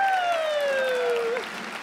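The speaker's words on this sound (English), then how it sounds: "give him a round of applause." Steady applause from a crowd at a comedy smoker show fills the space, while a loud, sliding whistle-like tone glides downward over the clapping before cutting off.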